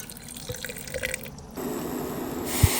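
Water pours and splashes steadily into a mixer jar of masala, shifting partway through to a fuller, louder running flow, with a few faint drips and a small clunk near the end.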